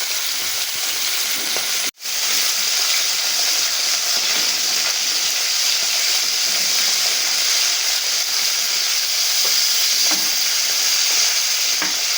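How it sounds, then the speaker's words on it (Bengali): Loud, steady sizzling of salt-and-turmeric-coated fish frying in hot oil, a dense crackling hiss that drops out for an instant near the start, then continues unbroken. "এবার আমি মাছগুলোকে একে একে ভেজে নেব"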